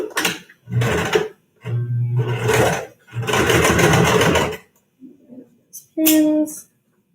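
A sewing machine stitches a fabric face mask with elastic at the edge, running in several close, loud bursts of rapid whirring separated by short pauses, with a brief bit of quiet talk near the end.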